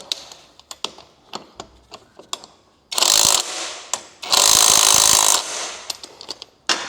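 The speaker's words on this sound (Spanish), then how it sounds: "Ahora apretamos con pistola de impacto." Impact wrench tightening bolts on a Yamaha NMAX 125 scooter: two loud, sustained rattling bursts of about half a second and a full second, set among sharp clicks and small clanks from nearby tools.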